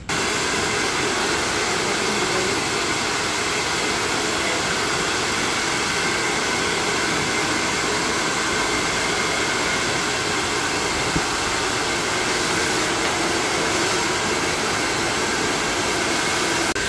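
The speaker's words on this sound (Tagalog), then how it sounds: "Ayan, mag-blower na tayo mga kalugit." A handheld hair dryer blows steadily for the full stretch, loud and close, while drying hair after ironing and rinsing, with a constant broadband whoosh and no talk over it.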